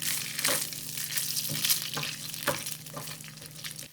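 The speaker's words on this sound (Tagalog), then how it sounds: "Lutuin muna natin yung sobrang meatloaf." Leftover meatloaf frying in oil sizzles up close, with repeated scraping stirs of a utensil against the pan roughly every half second over a steady hiss, and no speech.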